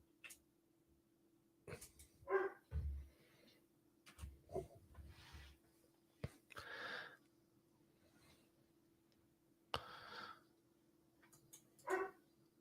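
A dog named Jax barks in a few sharp, scattered bursts at moderate distance, separated by quiet gaps and a low steady hum.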